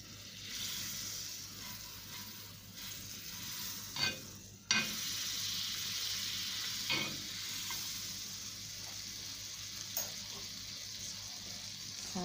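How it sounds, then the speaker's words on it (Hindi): Chicken sizzler sizzling with butter on a hot sizzler plate, a steady broad hiss lasting throughout with a few sharper pops and crackles, close and moderately loud, no voices. "अब हम इसको सिजल करेंगे, सिजल में डालेंगे और इसको सिजल करेंगे हम मक्खन के साथ।"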